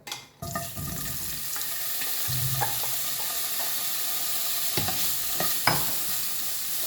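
Paneer frying in hot oil in a pan on the stove, a steady close sizzle running throughout with a few sharper pops and clinks, no talk.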